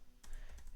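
Keys clacking on a computer keyboard while Python game code is typed, a short, close burst of several quick keystrokes.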